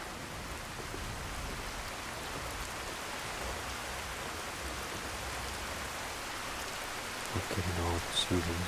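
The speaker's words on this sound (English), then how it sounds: "And now the rain." Steady rain falls in Skyrim at a village dock at dusk, a soft even hiss of drops that holds at low level throughout, with a few faint knocks near the end.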